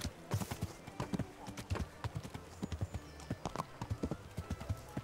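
Rapid rhythmic hoofbeats of a galloping horse in the video game Kingdom Come: Deliverance, close and steady, with someone talking over them.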